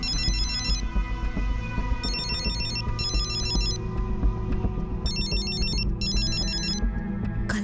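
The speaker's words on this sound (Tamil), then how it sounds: "ஃபோன் அடிக்குது, ஆளை காணுமே." A telephone rings in repeated electronic bursts, steady and fairly loud, over a dense low background hum with no talking.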